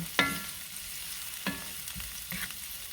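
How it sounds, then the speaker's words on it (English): Onions sauté in a pan for smothered pork chops, a steady moderate sizzle with a few sharp scrapes or clinks of a utensil stirring, no voices. "I'm going to saute these for just another minute or so more"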